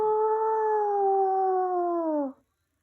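A single wolf howl, one smooth sustained tonal cry lasting about two and a half seconds that bends slightly downward at the end before cutting off into silence, close and clear.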